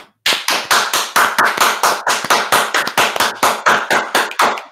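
Roughly sixteen sharp, evenly spaced hand claps ring out close and loud in a quick steady rhythm, a single person clapping alone.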